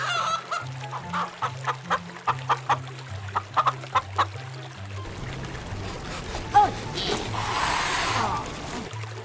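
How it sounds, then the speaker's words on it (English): A cartoon chicken clucks in a quick run of short, evenly spaced calls over a bouncy children's music track, then gives way to a hissing wash of noise. "Chicken."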